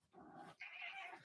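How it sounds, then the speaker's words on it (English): A house cat yowls loudly at close range, a single drawn-out two-part meow with a rising, strained second half, heard alone against a quiet room. "That is our cat, and he is shouting at me."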